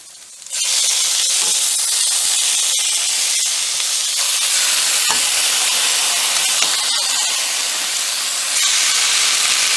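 Chicken hitting a pan of lightly sautéed onions for a chicken stew gives a loud, steady hiss of sizzling that starts abruptly and holds without a break, with no talking.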